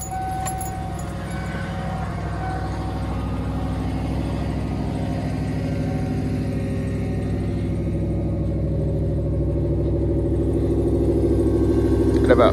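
A carbureted 1992 Ford 351W V8 holds a steady high idle on a cold north Idaho morning, a continuous loud rumbling drone that swells slightly louder toward the end, with no talking.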